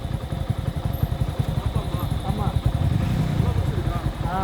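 Motor vehicles, motorcycles among them, pass along a road in a steady stream of engine rumble, with people talking over the traffic throughout.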